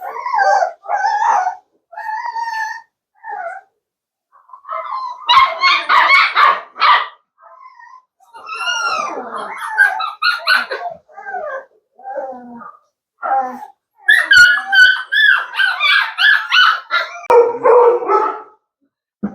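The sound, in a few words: bullmastiff puppies barking and howling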